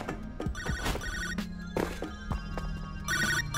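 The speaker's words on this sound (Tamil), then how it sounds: "ஃபோன் அடிக்குது இதா" A telephone rings in the High On Life video game: repeated electronic trills, one near the start and another near the end, over game noise, thumps and footsteps.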